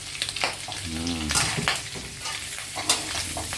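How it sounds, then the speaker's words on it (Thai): Wood ear mushrooms tumble into a hot pan and are stir-fried, giving a steady close sizzle with short scraping stirs and brief clatters throughout. "ตอนนี้เราก็ใส่ เห็ดหูหนูลงไปนะครับ"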